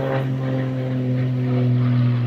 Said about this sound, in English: don't mind the airplane.